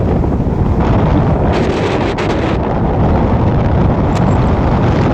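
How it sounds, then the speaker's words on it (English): Strong wind buffets the microphone while riding a Teewing Mars XTR electric scooter, a loud continuous low roar with gusty rumbling and no voices. "Guys, it's really windy today"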